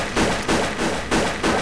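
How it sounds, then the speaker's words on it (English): Enemy gunfire in the UFO: Afterlight strategy game, a string of sharp, loud shots in uneven bursts close by, each crack followed by a short rumbling tail, with no voices over it. "They shoot at me."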